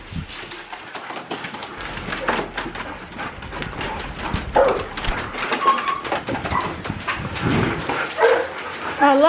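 Four Siberian huskies in a new house whimper, yip and bark excitedly in a busy, close, continuous jumble of dog sounds, with some human voices mixed in.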